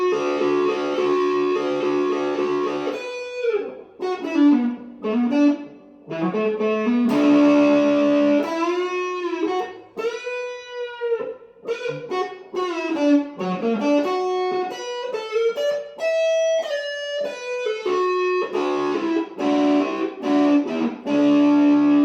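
An electric guitar plays a meandering melody with sustained, bending notes through a thick, saturated Maestro fuzz tone pedal, using the neck pickup with the tone rolled off, alone and fairly loud.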